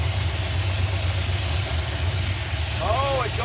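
The Stubby Bob car's engine idles in a steady low rumble while the car is put into reverse, close and continuous, with a brief squeaky chirp near the end.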